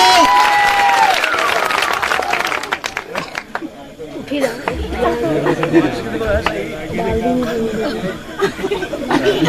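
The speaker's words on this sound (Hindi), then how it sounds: "भरपूर तालियां" An audience at a comedy stage show claps amid crowd chatter and chuckles, the applause rising and falling in bursts while voices carry on through it.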